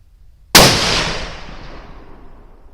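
One loud .308 rifle report using Hornady Superperformance ammunition at an outdoor 100-yard range: quiet background, then a sudden sharp blast whose echo trails off over about two seconds.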